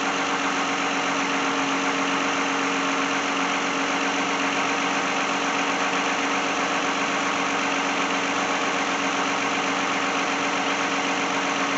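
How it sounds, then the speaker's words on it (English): A 2010 Lexus car engine that had a no-start fault idles, a loud, steady, unbroken hum and rumble holding at an even level throughout with no talking. "now we're gonna start the engine"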